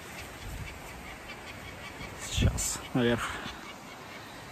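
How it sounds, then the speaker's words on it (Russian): A gull near rocky cliffs on the Northern Urals gives a few agitated calls, a short harsh cry followed by a rapid stuttering series, heard at moderate distance over outdoor wind noise while a person speaks briefly. "Чайка вот что-то распереживалась."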